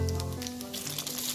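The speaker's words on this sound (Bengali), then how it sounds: "আর 1 চামচের মতো সাদা জিরে ফোড়ন দেব" White cumin seeds, with dried red chillies and a pinch of asafoetida, crackle and hiss in hot white oil for a mixed dal tempering; a faint, brief close sizzle over a low hum.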